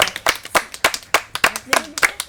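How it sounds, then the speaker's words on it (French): A small audience claps in sharp, uneven bursts of close, distinct handclaps, with a voice speaking briefly partway through, beside a fresco project. "on a envie de vous applaudir"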